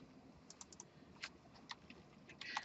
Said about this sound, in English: That's when I'm typing stuff up here and you follow along.